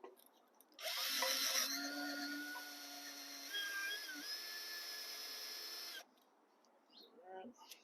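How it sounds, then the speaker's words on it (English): A high-pitched electric drill whines steadily for about five seconds while replacing a Honda Accord valve cover gasket, its pitch shifting slightly under load, then stops, leaving faint background noise. "Sometimes your drill wants to be a pain."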